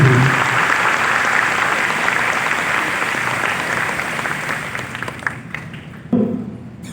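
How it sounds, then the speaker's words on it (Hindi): Audience applause for students' parents at an Allen admission and orientation event in a hall: sustained dense clapping from a crowd, fairly loud and steady, thinning out near the end with a few scattered claps. "तो जरा प्यारे प्यारे पेरेंट्स के लिए जोरदार तालियां बजा दीजिए"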